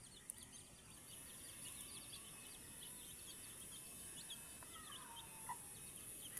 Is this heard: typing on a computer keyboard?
no